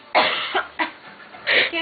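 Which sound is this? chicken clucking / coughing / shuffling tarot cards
coughing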